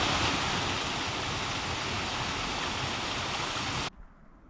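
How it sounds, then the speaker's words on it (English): Rushing waterfall in a Scottish Highland forest, a dense, steady roar close by that cuts off abruptly near the end, leaving quiet background air. "That waterfall."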